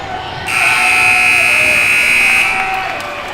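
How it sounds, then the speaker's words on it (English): A loud, sustained electronic buzzer ending the first half of a Navy college basketball game blares for about two seconds over faint crowd noise in an indoor gym. "The buzzer sounds, and that concludes the first half"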